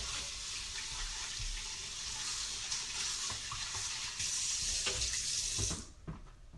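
Running tap water splashes steadily into a sink while something is rinsed out, a continuous hiss with shifting splashes that swells near the end and then cuts off abruptly.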